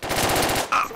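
Rapid burst of shotgun fire in the military shooter game Project Reality, several loud close blasts in quick succession followed by a brief sharper report.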